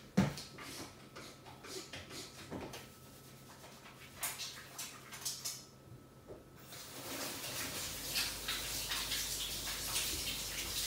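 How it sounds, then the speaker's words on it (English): Hands being washed under a running tap in a home kitchen, water splashing steadily and growing fuller toward the end, with light handling clatter earlier. "Let me wash my hand."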